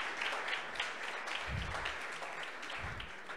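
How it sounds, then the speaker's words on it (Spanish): Audience at a Women in Data Science event breaking into steady applause, a dense wash of clapping that continues evenly through the moment, with no speech over it. "Un aplauso, por favor."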